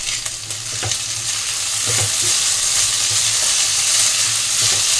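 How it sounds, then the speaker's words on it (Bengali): Noodles stir-fry in a wok over a high gas flame for Chinese-style bread upma, a loud, close sizzle with regular scraping and tossing strokes of a spatula. "নুডলসটা দিয়ে আমি সবগুলো লো ফ্লেমে একটু হাই ফ্লেমে ভেজে নিয়েছি"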